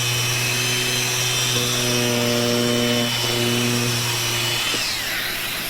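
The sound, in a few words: Festool Deltex DX 93 E Plus sander running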